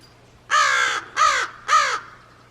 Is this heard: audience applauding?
no